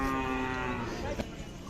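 Khillar cattle at a livestock market in Sangola, Solapur, give a long, loud, tonal moo that fades away, followed by faint market background noise.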